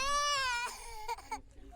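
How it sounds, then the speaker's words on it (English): A young child cries in a loud, wailing burst that breaks into shorter sobbing gasps, close by, in a makeshift tent city for families displaced by a disaster in Amizmiz, Morocco. "and children's cries."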